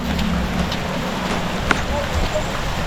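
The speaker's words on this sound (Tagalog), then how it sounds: "Kaso, ayun ang ulan." Rain falls steadily outdoors on a farm, a dense, even wash of hiss and patter that stays loud and constant the whole time, with a faint voice and a few small knocks underneath.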